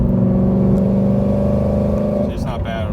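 In-cab sound of a 2013 Mustang GT with a Flowmaster Thunder Series exhaust and X-pipe, a steady loud engine drone that swells into a brief rev on a downshift near the end.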